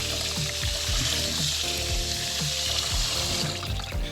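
Tap water runs steadily into a sink while rice is rinsed for sushi, a continuous splashing wash with small clinks and bumps of grains and a bowl close by, no talking.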